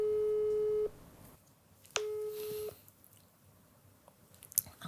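A telephone busy signal sounds while calling someone, with two steady beeping tones separated by a pause, fairly clear and alone against quiet room noise, followed by small handling clicks.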